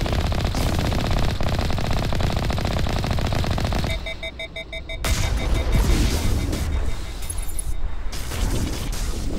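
Turrets fire in the Mass Effect video game. Rapid automatic gunfire rattles on almost without a break, dips briefly partway through and then resumes at full loudness.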